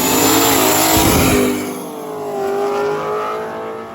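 Drag racing Pontiac and Buick launch down the strip, a loud, close engine roar rising in pitch as they accelerate, then settling into a steadier, slightly more distant drone.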